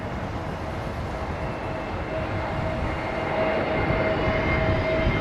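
Passenger jet with Pratt & Whitney engines at London Heathrow, a steady hollow roar at moderate distance that swells slightly toward the end, with no talk.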